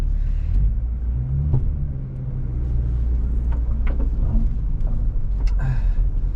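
A 1990 Ford Probe GT with a worn shifter pulls away in first gear, its low engine rumble steady and close, with no talking.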